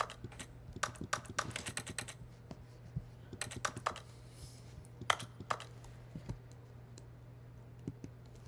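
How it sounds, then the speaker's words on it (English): Rapid, crisp keyboard button presses from The Stanley Parable video game click and clatter in irregular bursts, close and fairly quiet, with no voices. "Press E on your keyboard."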